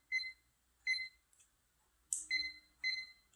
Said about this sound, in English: I'm going to set this timer right now